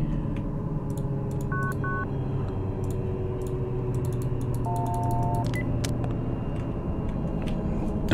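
Phone dialing tones in the Cry of Fear video game: a few short paired beeps and one longer tone ring out over a steady low hum, with faint clicks scattered throughout.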